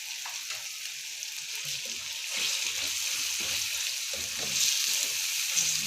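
Tomatoes going into chicken biryani frying in a pan, with a continuous bright sizzle that swells as they land and stays steady, broken by soft stirring knocks and some watery bubbling, with no voice.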